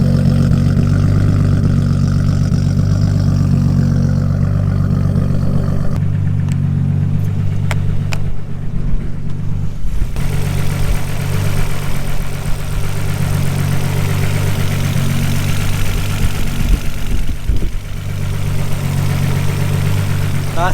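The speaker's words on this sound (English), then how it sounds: "that's what makes the Skyline what it is today, the RB26 engine." A Nissan Skyline's RB26 engine, tuned to around 700 bhp with a loud exhaust, idles with a deep, heavy burble, steady and close throughout with a few small throttle blips and slight dips in tone.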